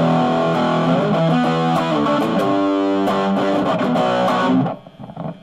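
A distorted electric guitar plays chords and single notes through a Marshall Lead 15 G15MS mini stack amp with a boxy, midrange-heavy tone, continuous and loud before cutting off near the end.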